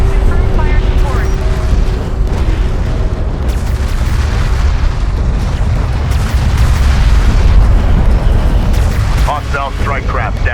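Heavy artillery explosions from fire support in Homeworld: Deserts of Kharak roll on without pause, loud, deep and rumbling, with radio voices talking over them.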